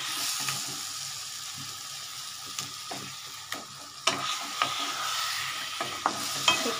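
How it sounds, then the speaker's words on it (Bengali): Mashed raw banana is stirred in a hot pan, giving a steady sizzle with a dozen or so sharp scraping clicks of the spoon against the metal, close and moderately loud, with no voices. "এবার এটাকে আমি মেশাবো ভালো করে"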